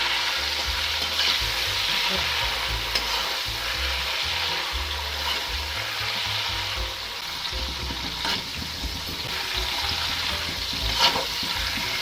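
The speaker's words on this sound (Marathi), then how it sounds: "आपले वेपर्स छान असे तेलामध्ये तळून घ्यायचे" Steady, crackling sizzle of banana wafers frying in hot oil on high flame, with occasional stirring clatter and scrapes throughout.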